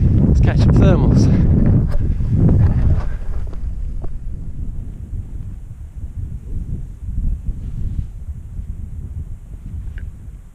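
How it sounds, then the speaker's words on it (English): Strong wind buffets the microphone on a paragliding launch, loud roaring gusts in the first seconds that ease into a steadier rumbling blow. "Really windy."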